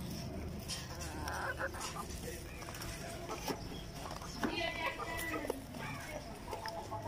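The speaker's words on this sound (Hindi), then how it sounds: "मैं अपने मुर्गों को दाना डाल रहा हूँ" Desi chickens cluck and scratch nearby while being fed grain, with scattered pecking and rustling over a busy outdoor background.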